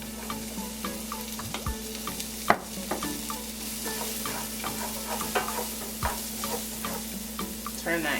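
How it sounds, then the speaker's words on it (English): Onions and garlic fry quietly in a pan over medium heat, with a soft steady sizzle and scattered clicks and scrapes as the pan is stirred. "once your garlic is nice and fragrant, then I'm gonna go ahead and add in half of these onions"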